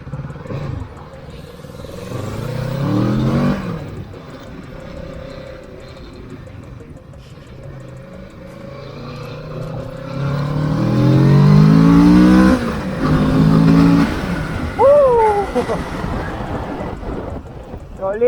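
A Kawasaki motorcycle engine, around 650cc, revs loud and close in rising and falling sweeps, with a couple of sharp high rev spikes near the end, rumbling throughout.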